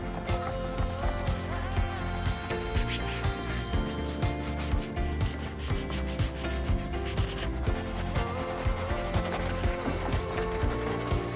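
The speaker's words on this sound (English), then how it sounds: "We're just gonna spray it all over and then scrub it in with a brush." Stiff brush scrubbing spray cleaner into a rubber car floor mat, a continuous rhythmic rubbing and scraping of bristles, close and steady throughout with no talk.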